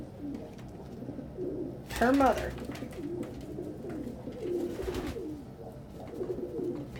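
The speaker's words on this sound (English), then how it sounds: "Pigeons." Pet pigeons cooing indoors, with a clear close coo in the middle and softer cooing around it, while people talk quietly in the background.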